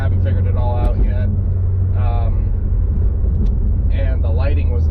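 A Chevrolet Corvette Z06 cruises with a steady low engine and road rumble heard from inside the cabin, while someone talks over it throughout.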